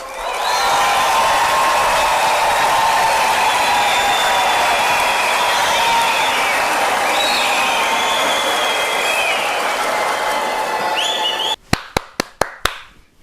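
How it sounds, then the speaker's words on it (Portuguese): Large crowd at a political address giving loud, sustained applause that fills the room for about eleven seconds, then stops abruptly, leaving a few separate claps. "Muitos aplausos, muitos aplausos"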